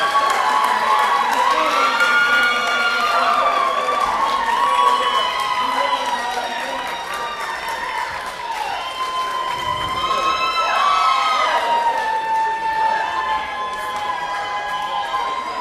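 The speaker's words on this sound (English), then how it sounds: "Let's give all the bands a round of applause." A crowd at a battle-of-the-bands rock show applauds and cheers for the bands, a continuous loud wash of shouts and whoops that stays steady throughout.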